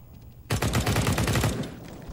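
Rapid burst of gunshots from a first-person shooter match in CS:GO: a loud, close volley of about a dozen quick shots that breaks out abruptly from quiet background, then trails off into echo.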